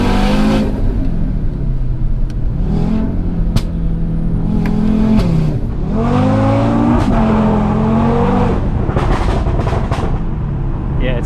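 A 520 bhp Audi RS3 on Pilot Sport 4S tyres accelerates hard along a back road, its engine note sweeping up and down through several gear changes, with sharp exhaust overrun pops and crackles and some voices inside the car.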